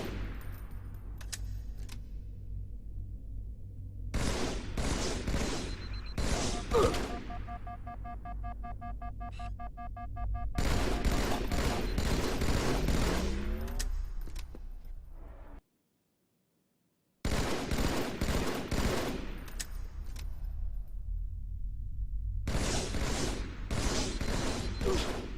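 Halo 2 multiplayer free-for-all on the Midship map: bursts of rapid game gunfire in repeated volleys, loud and close, with one brief silent gap midway and no talking.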